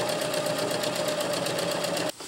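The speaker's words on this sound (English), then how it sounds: "And we'll just sew right down the line." A sewing machine runs steadily, stitching a drawstring channel on a stuff sack, its rapid even needle rhythm close and loud before stopping abruptly near the end.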